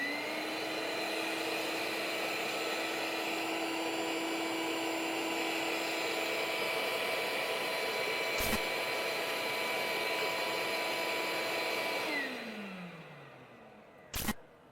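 A workshop dust collector vacuum switched on through an iVAC switch box drones steadily and loudly, with a sharp click midway, then spins down gradually after being stopped, followed by another click.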